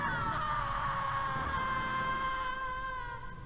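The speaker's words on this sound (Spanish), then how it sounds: "Oye, es un grito familiar." A drawn-out scream from the horror video game Harvester, a wavering high cry held for several seconds over a steady game backdrop before fading slightly at the end.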